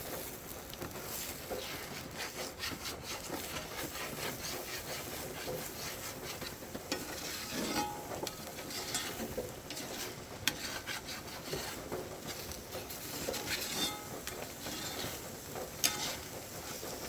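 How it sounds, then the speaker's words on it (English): Eggs being scrambled in a pan on a wood stove, with a steady faint scraping and rubbing of a utensil against the pan and a few small clicks. "When I'm scrambling eggs on the wood stove"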